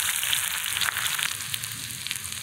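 Chopped onion frying in mustard oil in a wok, giving a steady, dense sizzle that holds close and fairly loud throughout with no talking.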